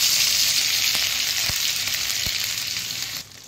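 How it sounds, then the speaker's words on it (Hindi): Crushed ginger and garlic frying in hot oil in a kadai, a loud continuous hiss with a few soft knocks of a spoon, close up, easing slightly near the end. "कढ़ाई में ऑयल गर्म हो गई है, इसमें अदरक लहसुन डालेंगे।"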